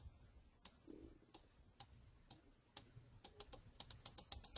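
Keys tapped on a computer keyboard, scattered clicks at first and then a quicker run of close, crisp keystrokes, quiet with no voices.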